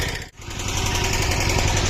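A tractor engine running in a field, a loud, close, steady chugging drone with a dense mechanical rumble and a brief dip near the start, without any talk.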